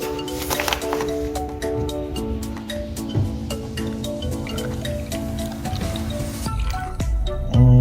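Milk is poured over ice for an iced latte, a continuous liquid gurgle and trickle with small clinks and crackles from the ice, close and fairly quiet, ending with a brief thump.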